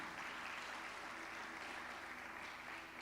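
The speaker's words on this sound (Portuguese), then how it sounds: "Quero um aplauso para a igreja de Jesus Cristo." Faint, distant audience applause in a church service, a steady even wash of clapping from a large congregation heard at low level throughout.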